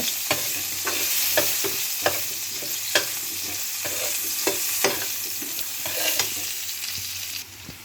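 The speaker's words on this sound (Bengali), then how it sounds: "এবার আলুগুলো ভালো করে ভেজে নেব" Cubed potatoes fry in oil with salt and a little turmeric for a lima bean curry. A steady sizzle runs throughout, punctuated by regular clinks and scrapes of a spatula stirring in the pan, close and fairly loud.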